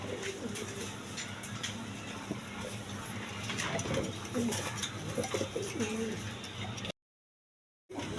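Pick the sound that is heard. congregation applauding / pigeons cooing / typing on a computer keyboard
pigeons cooing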